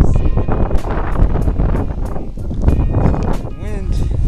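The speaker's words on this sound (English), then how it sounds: "The wind is coming right at my face this time" Strong gusting wind in a Boston blizzard buffets the microphone with a steady roar, while a person talks over it throughout.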